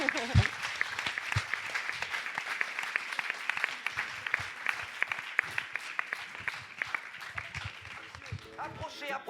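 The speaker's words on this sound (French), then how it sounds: "en nous applaudissant parce qu'on est formidable" An audience at the close of a conference on transition claps in sustained, dense applause that stays steady for several seconds while voices mix in.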